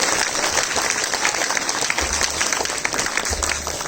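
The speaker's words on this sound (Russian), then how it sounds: "Владимирович, аплодисменты." An audience at an ensemble's anniversary concert applauds, a steady, loud wash of clapping from a large crowd with a low hum appearing underneath in places.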